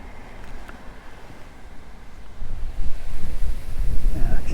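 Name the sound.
wind blowing at a river while fishing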